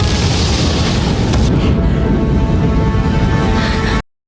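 An explosion in a One Piece anime film roars as a loud, dense rumbling blast that sustains for about four seconds before cutting off abruptly.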